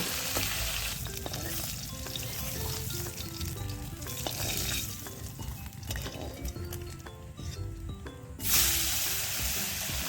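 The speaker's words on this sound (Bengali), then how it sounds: "নুন হলুদ মাখানো মাছগুলো দিয়ে মাছগুলো লাল করে ভেজে তুলে নেব" Turmeric- and salt-coated river fish fry in hot mustard oil with a loud, steady sizzle and occasional stirring, and a brief louder hiss near the end.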